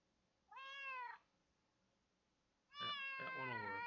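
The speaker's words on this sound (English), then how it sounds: "Kitten eating, kitten drink, kitten meows." A kitten meows twice, a short clear cry followed after a pause by a longer, louder one, close up with no other sound around it.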